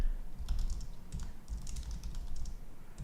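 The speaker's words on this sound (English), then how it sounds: "Typing." Steady typing on a computer keyboard, close and clear, with keys clicking in quick uneven bursts throughout and no talk.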